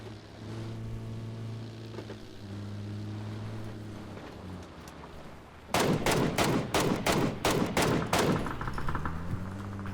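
Gunshots at vehicle tyres in the video game PUBG: after a steady engine drone, a rapid burst of about seven loud, sharp shots rings out close by, and then the engine hum carries on.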